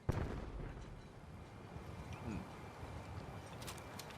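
Gunfire volley in Fallout 4's Far Harbor, a dense, continuous crackle of shots and booming blasts filling the scene, with a sharp burst at the start and steady rumbling fire throughout.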